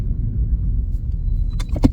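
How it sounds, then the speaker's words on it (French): A car passes in front on a street, a steady low rumble of the engine filling the whole stretch, with a couple of brief sharp clicks near the end. "il y a une voiture devant"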